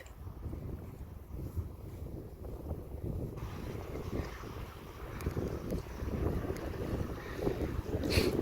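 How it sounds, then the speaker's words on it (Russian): The Barguzin wind blows across open Lake Baikal, a steady low roar of gusts buffeting the microphone throughout, with occasional water splashes from a kayak and no talk. "Ветер дует. Баргузин."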